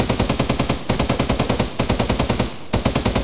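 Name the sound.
P90 gunfire in Minecraft Flan's Mod, video game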